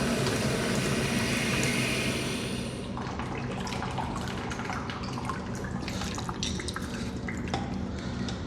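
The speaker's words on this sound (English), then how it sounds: "yeah, you can see it dripping there." Water drips steadily from a leaking urinal trap in a speedway men's washroom, a run of close, distinct drops over a constant low background hum after an initial rush of flowing water.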